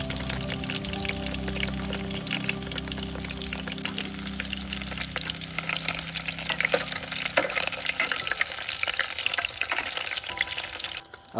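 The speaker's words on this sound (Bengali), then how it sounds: "আরও অনেক পকোড়া হচ্ছে। এই প্রথম লটের ভাজা কমপ্লিট।" Batter-coated pakoras sizzle steadily in hot oil at an outdoor campsite, a dense continuous crackle with occasional stirring, close and fairly loud, fading out at the very end.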